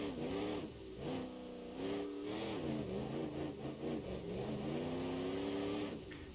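A diesel V8 monster truck engine in BeamNG.drive drones steadily at a low idle with gentle revving swells rising and falling, heard alone and fairly quiet throughout.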